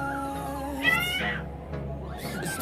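Cat meowing in the Sakura School Simulator video game, a single drawn-out meow rising in pitch, heard over a steady game background with another faint cry at the end.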